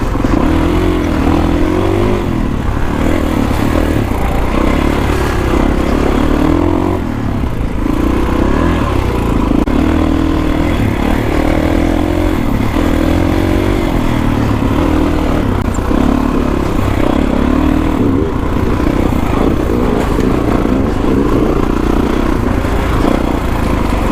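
A Kawasaki KX450X dirt bike rides a rough single-track trail. Its engine drones close and loud, with revs rising and falling continuously over the whole stretch, and no voices are heard.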